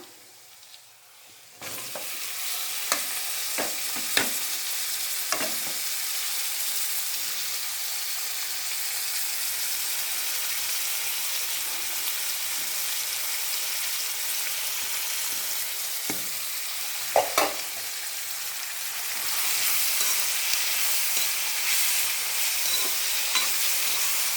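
Vegetables for a variety rice dish fry in a pan with a steady, even sizzle that lasts throughout, punctuated by occasional sharp scrapes and knocks of stirring. No one speaks over it.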